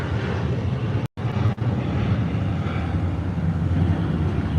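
An airplane takes off, heard as a steady, loud engine roar and broad rushing noise throughout, briefly cut out once near the start.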